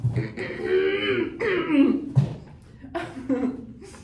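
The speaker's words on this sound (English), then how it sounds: "Sorry, I just had to clear my throat." Someone clears their throat several times in a row, rough guttural rasps close to the listener, mixed with faint chuckling sounds.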